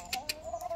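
Chickens on a Filipino backyard farm keeping roosters and breeders, giving a few short clucks at regular intervals over a steady background hum.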